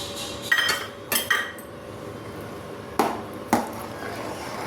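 Fried cashews, cardamom and coconut pieces are tipped into a pot of payasam, with metallic clinks and scrapes of a spoon against the pot in a few distinct bursts.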